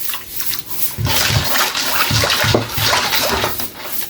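Water from a glass poured into a pot of pork humba, a loud continuous splashing and gushing pour that starts about a second in and runs steadily to the end, with no talk over it.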